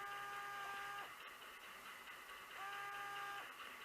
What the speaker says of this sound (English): A little bit of a noise on the motor,